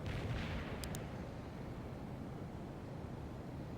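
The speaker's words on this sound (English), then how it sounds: "We're engaged by a tank." A tank fires in the World in Conflict strategy game, a loud booming blast that rolls into a dense, sustained battlefield rumble.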